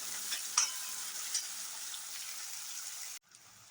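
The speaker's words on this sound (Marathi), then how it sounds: "हा एक टोमॅटो आहे बारीक चिरलेला, हा याचा चांगला फ्राय करून घ्यायचा आहे" Finely chopped tomato and onion fry in oil, a soft, even sizzle with a few light stirring clicks near the start. The sizzle stops abruptly just before the end, and no one speaks.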